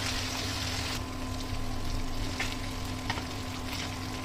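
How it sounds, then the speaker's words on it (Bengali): Rohu fish pieces frying lightly in hot oil in a pan, a steady broad sizzle with a faint hum underneath and a few soft pops, continuous and close, no talking. "রুই মাছ হালকা ভেজে নিব"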